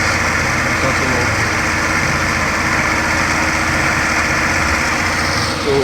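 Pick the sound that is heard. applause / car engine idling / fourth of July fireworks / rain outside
car engine idling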